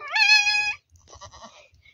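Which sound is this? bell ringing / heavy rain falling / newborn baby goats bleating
newborn baby goats bleating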